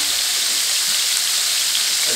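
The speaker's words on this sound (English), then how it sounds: "we're gonna sear them off" Steaks and fish searing in a hot pan, giving a steady, bright, close sizzle that holds unbroken for a couple of seconds.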